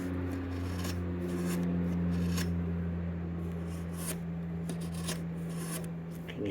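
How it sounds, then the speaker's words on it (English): Scraping from a clip rubbing on metal inside the speedometer of a 1979 Vespa P200E with its cover off: a steady rasping, rubbing noise that runs continuously over a low mechanical hum, close and fairly loud. "This clip here is scraping on this metal."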